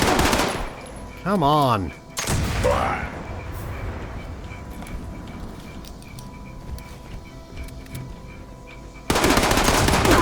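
Black powder guns firing in the video game Fallout 76: a few loud, sharp booming shots early on, then ongoing game noise, with a player talking over it and another loud burst at the end.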